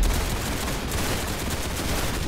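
A dense burst of rapid gunfire in the Roblox Arsenal video game, loud and continuous for a couple of seconds with no pauses.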